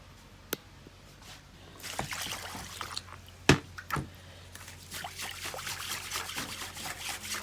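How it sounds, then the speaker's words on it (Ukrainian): Water splashes and trickles into a pot of rice being washed, with a few clanks and knocks, pouring steadily near the microphone. "Ще наливаємо води, бо нам треба води."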